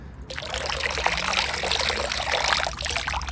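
Water trickles and splashes steadily out of the drainage holes of an orchid pot for a few seconds, a soft, continuous close pour with no talking.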